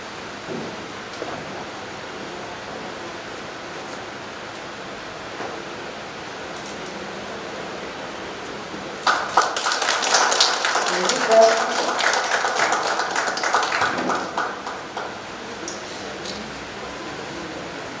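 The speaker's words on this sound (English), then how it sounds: "Let's give a round of applause." Applause from an audience at a silver jubilee celebration of a working women's hostel, a moderate burst of clapping lasting about five seconds after a stretch of quiet room noise, then fading out.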